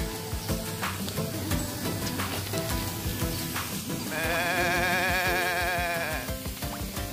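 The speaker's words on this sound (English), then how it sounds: "The goat!" At Seneca Park Zoo, a goat gives a drawn-out, wavering bleat lasting about two seconds, standing out over busy background noise from the crowd.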